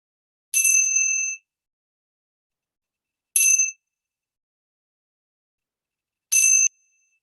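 A meditation cymbal rings three times at spaced intervals, each a clear bright chime that fades quickly into silence, loud and alone with no voices.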